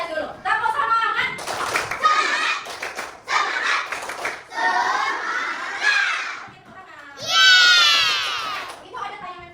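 A classroom of children does a rhythmic Indonesian clapping cheer, tepuk semangat, with bursts of clapping, chanted voices and excited shouts, a teacher's voice between the bursts and a loud high squeal of kids near the end.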